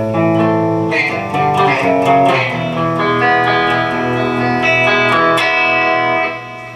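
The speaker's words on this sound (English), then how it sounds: "And of course your delay pedal, which is a great pedal." An electric guitar played through a delay pedal set for a short slapback echo, with a dense run of notes and chords ringing continuously and loudly with no voices.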